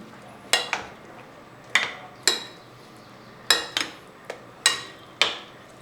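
A spoon stirs cauliflower pieces through batter in a bowl, making sharp repeated clinks against the dish in an irregular rhythm, close and fairly loud with no voices.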